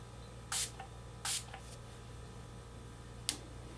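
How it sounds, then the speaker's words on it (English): Urban Decay All Nighter makeup setting spray spritzes close up: two quick bright pumps in a row, then a third sharp spritz after a pause, each a short hiss over a quiet room with no talking. "This is my Urban Decay All Nighter makeup spray, setting spray."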